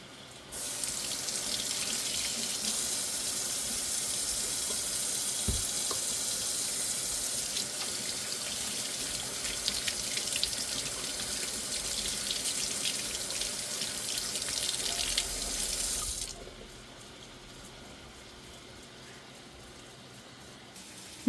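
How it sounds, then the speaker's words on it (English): A kitchen tap runs at a sink for about fifteen seconds as hands are washed after handling raw meat, a steady close splashing rush that cuts off abruptly into quiet room tone. "Let me wash my hands where I've touched this meat."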